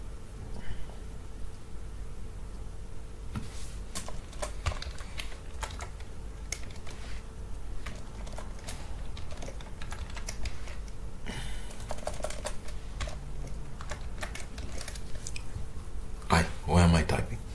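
Rapid, uneven clicking of keys on a computer keyboard continues for a long stretch, close and steady in irregular bursts, with a brief louder clatter near the end.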